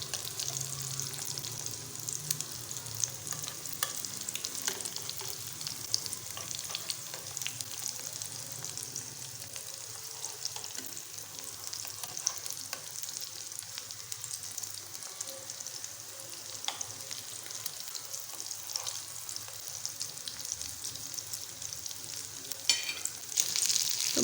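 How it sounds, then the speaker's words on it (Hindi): Meatless shami kababs fry in a pan with a steady, close sizzle of hot oil that holds evenly throughout, broken by a few faint clinks and stirring sounds and no talking. "तो शामी हमारे एक तरफ से फ्राई हो गए। अब हम इनको पलटते हैं।"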